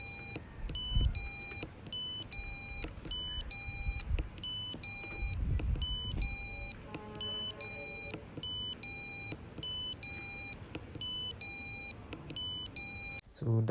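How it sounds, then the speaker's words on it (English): Repeated electronic beeps from an Arduino doorbell buzzer in steady bursts, loud and close, with a faint background murmur and low rumble between them. "the buzzer is going to make a sound"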